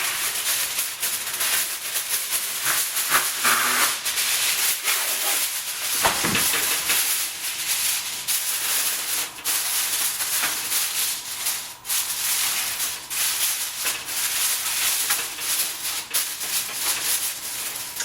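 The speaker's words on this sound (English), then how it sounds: "right now my oven is doing the steam clean function." An oven running its steam clean cycle gives a steady, loud hiss that holds for the whole stretch with little change, with a few faint bumps and rubbing noises underneath.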